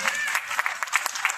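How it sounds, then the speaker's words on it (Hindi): Audience in a meeting hall claps, a brief burst of dense applause with a voice speaking over it. "क्या उनके लिए ताली होना चाहिए"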